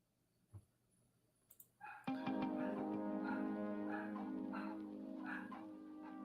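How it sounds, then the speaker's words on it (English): Small dogs yapping and barking in quick, high-pitched bursts, starting with a few sharp yips before a sustained, loud run of overlapping barks and whines. "I hate little dogs. They sound like my neighbor's dogs."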